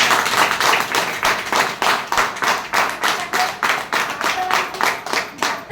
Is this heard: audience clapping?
yes